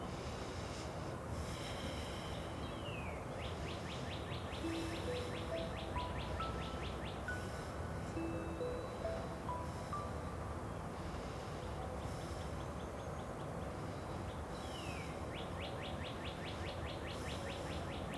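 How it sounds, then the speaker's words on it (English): A bird sings faint, thin chirping phrases against a steady background hum, with short insect-like buzzy trills repeating now and then. "And you can hear that beautiful bird."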